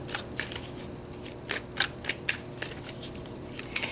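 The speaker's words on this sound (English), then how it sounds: "let's pull some more cards about this journey." Tarot cards being shuffled by hand, a run of crisp riffling flutters and soft slaps repeating steadily over a faint background hiss, close by with no talk.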